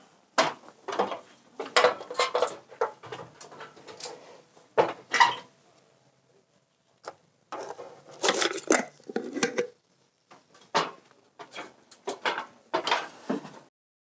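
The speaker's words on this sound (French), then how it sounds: "je vais essayer de capturer le nid ici dans ma boîte en verre et de refermer le plus rapidement possible le couvercle" Clinks, taps and knocks of a glass box and its lid being handled and closed over an Asian hornet nest, in irregular clusters of sharp hits separated by short quiet gaps, close up with no talking.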